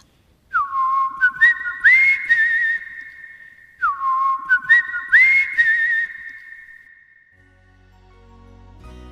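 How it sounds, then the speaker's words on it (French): A clear human whistle blows a signal call twice, each a rising tone followed by warbling trills, loud and close in a quiet setting, ending with a soft low hum. "dit Clé de Sol, avant de donner, en sifflant, le signal du départ"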